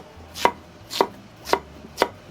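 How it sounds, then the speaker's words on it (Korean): Knife chopping sweet potato on a cutting board, four crisp, evenly spaced cuts about half a second apart, close and clear with no talking. "고구마 너무 작지 않게 자르는 게 좋죠."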